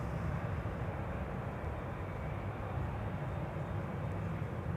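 A Lufthansa Airbus A320 arriving at Schiphol from Frankfurt gives a steady, broad jet roar that stays loud and even throughout, with no talk over it.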